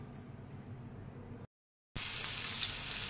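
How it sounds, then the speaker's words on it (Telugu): Fish fry in a pan gives off a steady, hissing sizzle. It cuts to brief silence, then returns louder and brighter, as if heard closer to the oil. "గులిబిందులు ఫిష్ ఫ్రై అండి"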